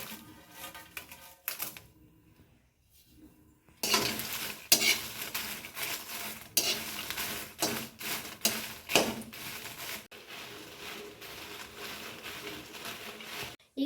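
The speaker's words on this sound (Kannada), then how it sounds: "ಈಗ ನಾವು ಮೆಣಸು, ಕುಂಟೆ ಮೆಣಸನ್ನು ಹಾಕಿ ಹುರಿಯುವ." Dried red chillies dry roasting in a pan for coconut chutney powder, a spoon scraping and stirring with steady clinks and a soft rustling sizzle, quiet at first then continuous and close.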